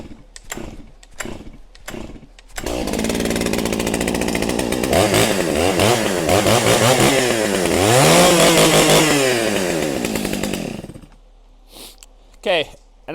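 An old, long-unused chainsaw being pull-started: several sharp cord pulls, then the engine catches and runs loud and close for about eight seconds with rising and falling revs before cutting out, followed by a few more pulls.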